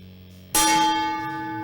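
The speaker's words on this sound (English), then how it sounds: "Birthday gong." A birthday gong struck once, a sudden loud metallic clang that rings on with a long, slowly fading tone.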